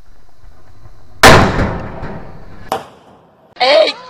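A single loud, sharp bang from a bomb under a washing machine bursts out and rings briefly, followed by a lighter knock and then a voice exclaiming.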